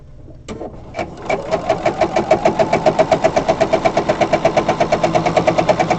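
A sewing machine stitches a fabric pencil case. After a couple of starting clicks it settles into a fast, even, close-up rhythmic clatter that runs without a break.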